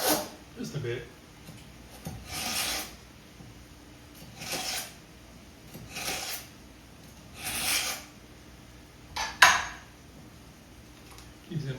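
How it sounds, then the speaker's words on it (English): A kitchen knife is sharpened before cutting a big yellow onion, giving several steady rasping strokes at a regular pace, each about a second long, with a brief sharp scrape near the end and a person speaking briefly. "I do like sharpening my knife pretty much every time I use them"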